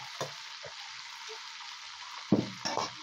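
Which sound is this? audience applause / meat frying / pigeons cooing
meat frying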